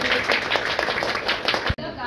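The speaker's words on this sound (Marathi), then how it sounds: "आता आपण सगळे मिळून एक टाळ्या वाजवू" An audience at a foundation's health and environmental awareness event claps together in a dense burst of hand claps that breaks off sharply near the end.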